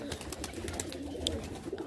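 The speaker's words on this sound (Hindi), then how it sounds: "ये सफ़ेद वाले कबूतर हैं जो घर के कबूतर हैं, घरेलू कबूतर हैं" Domestic white pigeons coo softly through a steady low murmur of background noise, with no talking over them.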